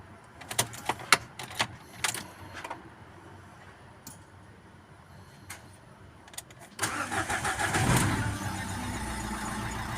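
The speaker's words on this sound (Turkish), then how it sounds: "Evet arkadaşlar, aracımızı topladık. İlk marş yapacağız." Renault Fluence 1.5 dCi diesel cranks and fires on its first start after a timing belt change, preceded by a few clicks and taps, then settling into a loud, steady idle rumble close by.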